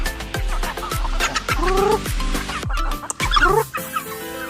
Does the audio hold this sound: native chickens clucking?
yes